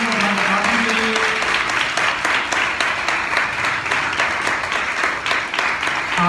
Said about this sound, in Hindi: जोरदार तालियों से धन्यवाद के लिए।